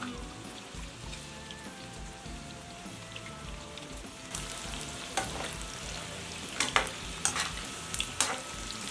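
Cauliflower florets (gobi) frying in hot oil for gobi rice, giving a steady crackling sizzle throughout that grows busier partway in, with sharper spatters and pops standing out near the end, no voices.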